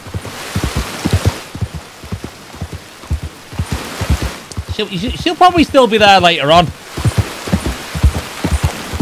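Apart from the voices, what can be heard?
rain falling in the video game Red Dead Redemption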